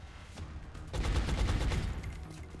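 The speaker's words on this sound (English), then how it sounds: "Out of rounds. Shot failed to connect." Gunfire in the XCOM video game: a loud burst of rapid, rattling shots that swells and then fades, heard over a constant low rumble.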